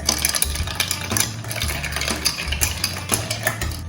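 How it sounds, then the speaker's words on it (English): A spoon stirring an old fashioned cocktail with bitters and cinnamon in a glass, soft repeated clinks and swirling scrapes over a low steady hum, quiet and close. "Give this a stir"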